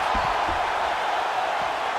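A steady roar of an arena crowd cheering at a UFC video game fight, constant and full, with faint thuds underneath and no breaks.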